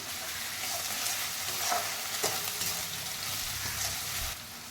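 Garlic paste and green and red chillies fry in a pan of softened onions for a lote fish masala. The oil gives a steady, close sizzle, with soft stirring scrapes running through it.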